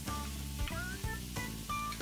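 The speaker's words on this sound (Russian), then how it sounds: "Спустя минуту выкладываем шампиньоны." Mushrooms sizzling and frying in a pan with bacon, onion and garlic, a steady close crackle with faint stirring scrapes throughout.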